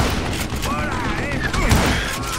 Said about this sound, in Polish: jeszcze jeden strzał